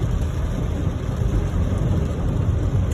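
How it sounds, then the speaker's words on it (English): Heavy rain pours steadily onto a car driving through flooded streets in Bangkok, Thailand, a dense, unbroken roaring hiss with a low rumble underneath, loud and continuous throughout. "Still raining heavily."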